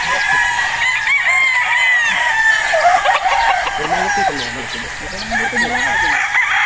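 Young fighting roosters, battle stags on a farm, crow loudly and repeatedly close by, with clucking and faint background voices mixed in.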